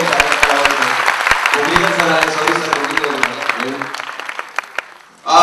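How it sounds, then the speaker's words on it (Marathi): An audience at a stage performance claps in scattered, crisp bursts while voices murmur and talk through it, ending in a sudden loud swell. "एकदा जोरदार टाळ्या होऊन जाऊ द्या सर्व."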